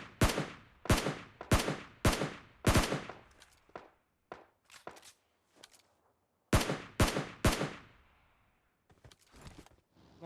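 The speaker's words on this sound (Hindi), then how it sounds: "उस बॉट को मैं मारता हूँ, थोड़ा बहुत टैप शॉट्स देता हूँ" Tap-fired gunshots in PUBG Mobile Lite take down a bot: loud bursts of two to four rapid cracks, separated by short pauses and a few single shots, with no talking over them.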